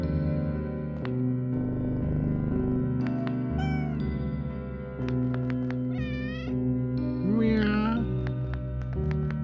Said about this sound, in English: they make purring noises